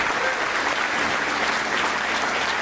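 Dense, continuous audience applause at a corporate product launch event, a thick wash of many hands clapping at constant loudness throughout.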